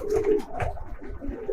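Pigeons coo in a loft, low rounded coos repeating close by for a couple of seconds with no talk.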